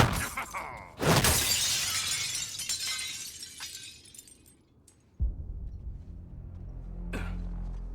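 Glass shatters with a loud crash in the Suicide Squad: Kill the Justice League video game, a bright burst of breaking shards followed by tinkling debris that fades out, then a low rumble returns with one more sharp clink.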